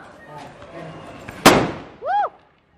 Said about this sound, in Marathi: तर फायनली मोठा बॉम्ब लावत आहे.